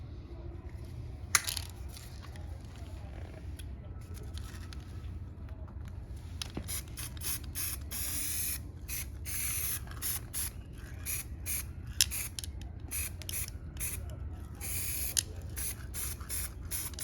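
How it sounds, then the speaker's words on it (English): A steady hiss runs throughout, broken by repeated short spray-paint can bursts through a stencil in the second half, with light rattles and clicks nearby. "we're gonna spray the next one"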